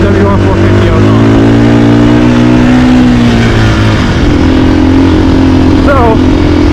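A 2024 Husqvarna FE450 motorcycle engine while riding, a loud, steady drone with shifting pitch close to the listener, and a voice speaking over it.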